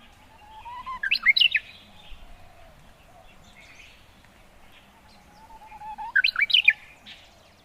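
Bird of the warbler family singing in bushes, two separate bursts of bright, warbling song notes, each about a second long, with a quiet pause between them and no voices.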